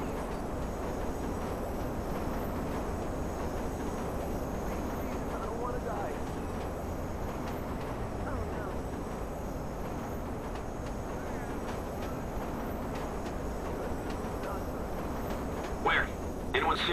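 Train in the video game Watch Dogs: Bad Blood, a low continuous rumble running steadily throughout at moderate level, with speech over it.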